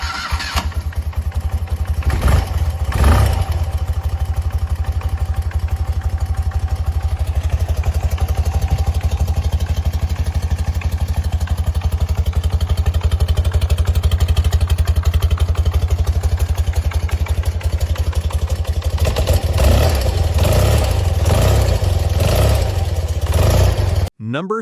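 Classic 1980s BMW R65 motorcycle engine running, a loud steady low rumble held for over twenty seconds with a few sharper blips near the start, close by and alone.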